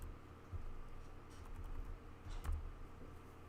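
Keys tap on a computer keyboard in a quiet room, soft irregular clicks and a few louder strokes, faint and close with no voices.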